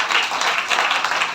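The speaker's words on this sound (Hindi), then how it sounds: "ताली बजाएंगे बेटी के लिए।" Brief applause from an audience for a girl, bursting loudly and evenly before it stops after a moment, with no voices heard.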